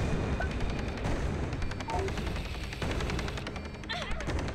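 Video game combat brings rapid bursts of gunfire mixed with explosions, repeated sharp cracks and booms that come quickly one after another at moderate loudness.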